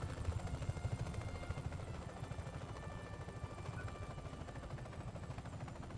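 Helicopter in Just Cause 3, a fast rhythmic rotor thump over a continuous engine drone, steady and moderately close, faint in level, with no voices during it.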